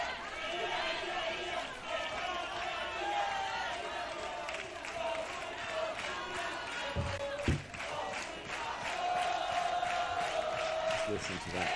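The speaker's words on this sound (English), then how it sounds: "Just listen to that crowd." Crowd noise fills a beach tennis World Cup semi-final, a constant murmur of chatter and excited voices with a commentator talking over it and a brief thump near the end.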